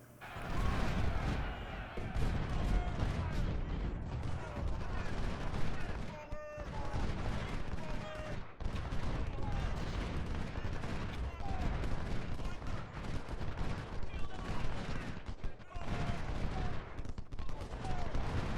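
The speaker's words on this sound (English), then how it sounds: "Baker, need those Napoleons to fire canister." Napoleon cannons firing canister in the Civil War strategy game Ultimate General, a continuous din of overlapping booms and crackling musketry from a battle, moderately loud, with someone talking over it.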